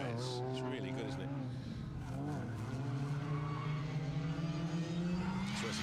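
Rally cars race flat out along a Protyre Circuit Rally Championship stage, a Mini pursued by a Guilford in car 71, engines rising and falling in steady revving passes under close commentary.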